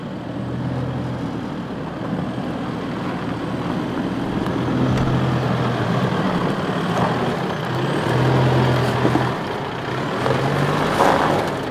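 A 4WD vehicle crawls up a wet army trail with its rear locker engaged, its engine droning loud and close with a rising and falling rumble and no speech.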